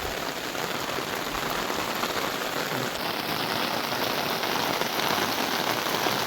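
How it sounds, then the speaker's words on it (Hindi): Heavy monsoon rain pours down steadily on a village, a dense, continuous hiss of drops drumming on surfaces, with no voices. "बारिश माशाल्लाह से देखें फुल स्पीड लगी हुई है।"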